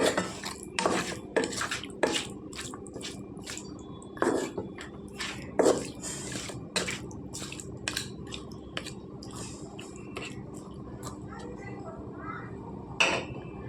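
Chicken pieces being mixed with spices in a pan over unheated oil: wet squishing and repeated clinks and knocks of a utensil against the pan in irregular bursts, near and moderately loud, with a voice talking faintly at times.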